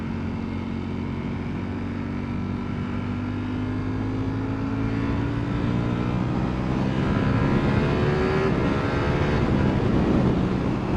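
A Ducati V4 Panigale sport bike with a counter-rotating crank runs steadily nearby, its engine note rising gradually in pitch as it revs, loud and continuous with no talking.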